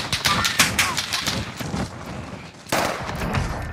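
Dense Call of Duty Pacific gunfire, rapid bursts of automatic shots and scattered single cracks at close range, with a short lull before another heavy volley.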